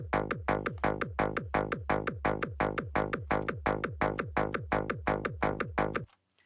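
A fast, even pulse of thumping kicks fused with a bass tone, each hit sweeping downward, looping steadily before cutting off.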